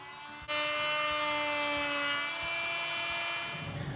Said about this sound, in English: Using the oscillating cutter, I'm just going to make a cut right here to release the tension